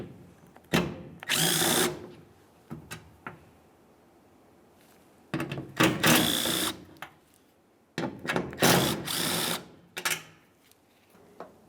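Power driver backing out T40 Torx screws from the tailgate handle of a 2005-2010 Dodge Dakota, three separate whirring bursts with short pauses, with clicks and handling noises between them, close up.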